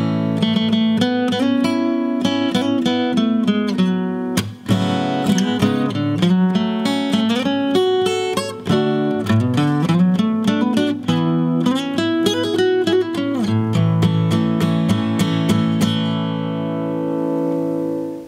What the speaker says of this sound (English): I'm going to show you how I would handle the instrumental section in the form of a guitar solo